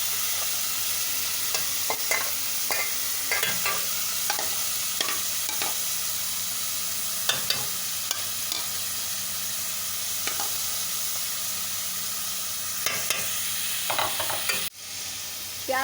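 Beef mince is frying with browned onions in a pan, with a steady sizzle and intermittent scrapes and knocks as a spoon stirs it, up close and without talk.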